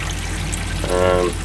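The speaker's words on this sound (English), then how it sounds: "Now I've got to get all the water out of it, because I don't want any water left in this system" Water gushes briefly out of the water system of a Talbot Express motorhome as it drains, a short splashing pour over a low background hum.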